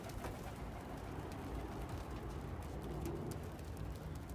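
Young pigeons in a loft coo softly amid a constant rustling, hissing background, their low calls faint and overlapping with no speech.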